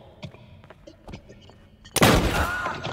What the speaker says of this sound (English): the Tommy gun, which just fits right into the game's classic mobster style, boasting an appropriate upgrade in firepower